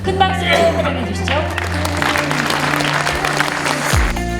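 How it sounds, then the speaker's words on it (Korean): A large audience at a horse-industry symposium applauds to welcome the Korea Racing Authority chairman, a dense, continuous clapping wash mixed with music and a loud sustained hum. "큰 박수로 환영해 주시죠."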